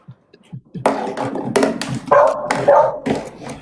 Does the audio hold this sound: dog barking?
yes